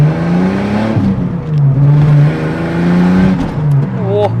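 A Ford Falcon with a Redback exhaust revs loudly up close, its exhaust note rising and falling as it accelerates on a road, with a crackling, raspy edge and violent pops on throttle taps.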